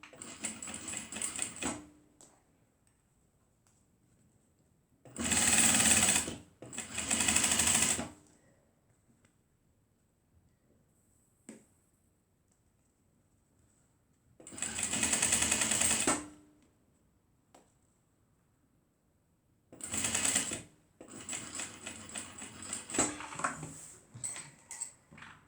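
Sewing machine back-stitching fabric for a waist bag, running in four loud, close, rapid buzzing bursts separated by quiet pauses, the last burst stuttering in short runs.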